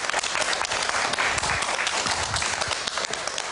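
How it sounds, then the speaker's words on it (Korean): An audience in a televised lecture hall bursts into sustained, dense applause, many hands clapping at once, loud and continuous throughout. "박수로 강의 시작하도록 하죠."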